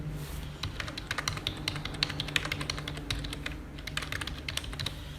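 Fingers typing card details on a computer keyboard in quick, irregular bursts of clicky keystrokes, close and fairly quiet, with a short pause partway through and no talking.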